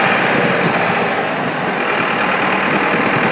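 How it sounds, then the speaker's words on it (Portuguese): Truck engine running steadily, carrying a load of vegetables home from a market, a constant close-up broadband rumble with no pauses and no talk. "olha o som, olha o barulho do motor da máquina aí"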